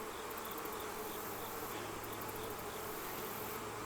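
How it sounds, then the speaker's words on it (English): Honey bees hum in a dense, steady buzz around a busy hive in a fall bee yard, the drone continuous and fairly faint, with no voices. "They got a lot of bees in there."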